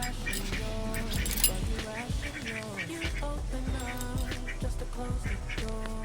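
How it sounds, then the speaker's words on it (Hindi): Ducks kept on a balcony quack repeatedly nearby in short nasal bursts, with people talking over and around the calls. "और देखिए बतख बालकनी में रखे हैं"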